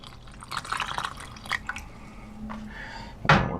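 Water poured from a container into a titanium bush pot while cooking salmon outdoors, a few splashing and trickling bursts followed by a sharp final splash, close and moderately quiet.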